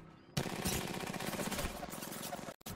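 An airstrike bombardment in the video game Apex Legends, a sudden dense roar of rapid explosions and gunfire bursts that stays loud for about two seconds before cutting off.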